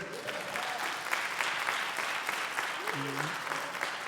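An audience applauds steadily at a foundation event, a dense wash of clapping at moderate distance with a voice heard briefly through it.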